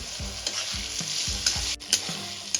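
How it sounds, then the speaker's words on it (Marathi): Ginger garlic paste and tomatoes sautéing in a pan, with a soft continuous sizzle and a rhythmic series of spoon scrapes and stirs, close and alone. "अद्रक लसूणची पेस्ट ऍड करून घ्यायची म्हणजे आपले टोमॅटो पण व्यवस्थित मेल्ट होईल ना अद्रक ची पेस्ट पण व्यवस्थित परतली जाईल"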